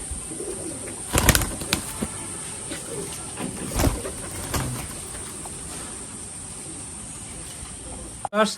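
Madrasi pigeons coo softly in a loft amid a steady background hiss, with a few sharp knocks and flutters punctuating the quiet.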